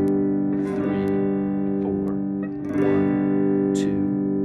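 Guitar chords ring out in sustained half-note strums, the chord held steadily while a voice counts the beats over it.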